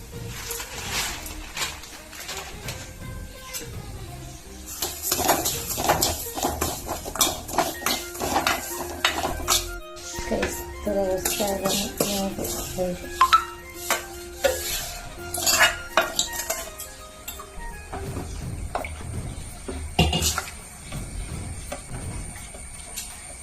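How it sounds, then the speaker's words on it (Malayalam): Ghee heating in a pan for frying, heard mostly as clattering pots, metal spoons scraping and stirring, with a faint sizzle underneath, close by and irregular over about twenty seconds. "നമുക്ക് ആദ്യം നെയ്യിൽ കുറച്ച് വറുത്ത് എടുക്കും."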